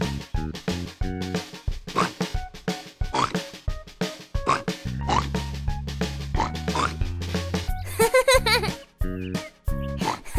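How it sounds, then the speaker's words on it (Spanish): A cartoonish pig oinks repeatedly in short snorting bursts over bouncy children's music about farm animals, close and lively. "¿Y qué animal vive aquí en el lodo y hace oink, oink?"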